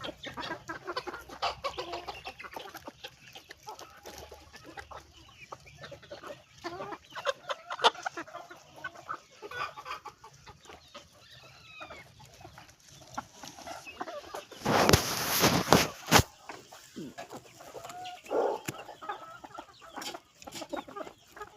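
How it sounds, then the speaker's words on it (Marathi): Pure desi country chickens sit under a shaded thatch shelter on a farm, giving scattered soft clucks and calls at close to moderate distance. A louder burst of flapping or calling comes midway. "आपले टोटल पक्षी कोपीखाली बसतात."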